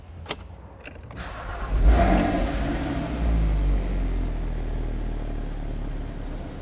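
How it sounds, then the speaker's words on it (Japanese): A 2009 Porsche Boxster S Type 987 with PDK cranks and fires up, a brief catch followed by a rising burst that settles into a steady low idle, close and moderately quiet. "それではエンジン始動させていきます。"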